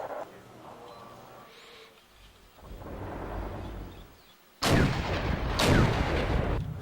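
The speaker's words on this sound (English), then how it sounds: "So what I'm going to do now is soften them up with my artillery. I'm going to fire on the position of Delta." Artillery fire in a war video game, booming deep blasts with a rumbling roll, the loudest pair of heavy impacts arriving late and close together after quieter distant rumbles, no voices.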